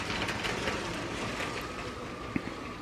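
A train runs in reverse along the track, making a faint, steady rumble with soft clatter and a single sharp click near the end.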